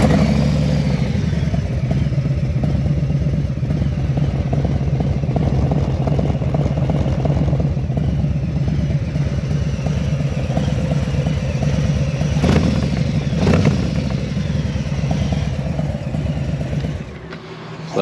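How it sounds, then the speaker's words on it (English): A Harley-Davidson Softail Low Rider S fitted with a new RSD exhaust idles nearby with a deep, loping rumble, steady for most of the stretch, with a couple of short blips before it settles. "I'll let you guys hear the new RSD exhaust we put on."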